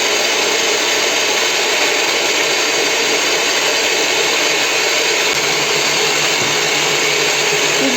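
An electric mixer whips egg whites continuously at high speed, a steady loud motor hum with a slight dip in pitch near the end.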